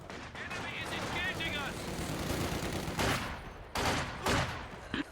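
Machine-gun fire in a 2v2 online strategy game match, dense rattling bursts and fusillades with louder sharp volleys near the end, heard beneath a commentator's talk.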